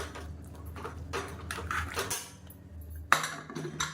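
Metal lid and pot clatter while cooking traditional rice batter for idli and dosa, a few close clanks and scrapes of cookware, ending with one sharp metallic knock as the lid is set down.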